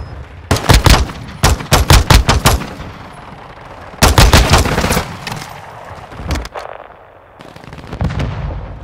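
Automatic gunfire from the Call of Duty Modern Warfare 2 video game, with loud rapid bursts early on, a second heavy burst midway and a few scattered shots after it.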